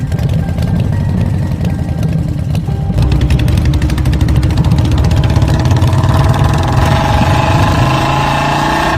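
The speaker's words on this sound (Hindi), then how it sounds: "अपनी बाइक लेकर स्टंट मारते हुए गुल्ली बुल्ली के घर की तरफ निकल जाते हैं" A cartoon motorbike engine roars loudly and steadily for several seconds as the rider pulls off doing stunts, its pitch shifting and rising as it revs away.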